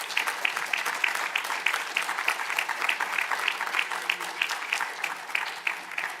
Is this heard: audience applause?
yes